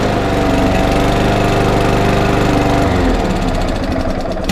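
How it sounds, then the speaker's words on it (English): A small Power Force petrol lawn mower engine runs steadily and loudly up close, its throbbing drone shifting slightly in pitch near the end. "That's that little Power Force lawnmower, which I got completely for free."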